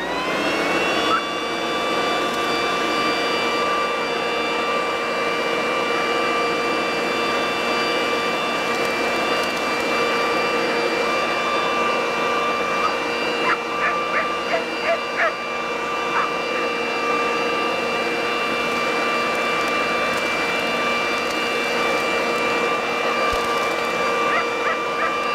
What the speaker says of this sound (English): Let's hit it with the blower.